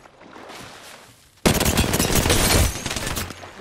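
Gunfire erupts in a shooter video game, a sudden dense burst of rapid shots that starts abruptly after a quieter stretch and holds loud for about a second before tapering off.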